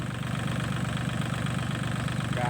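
An L36 tractor engine idles steadily nearby at a rice paddy being tilled, a constant low rumbling chug with no talking.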